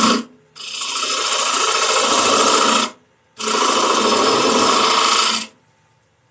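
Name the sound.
bowl gouge making light cuts in wood on a lathe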